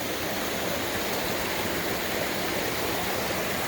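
Water flows steadily by a river, a dense, even rushing wash that stays constant and close throughout with no other sounds.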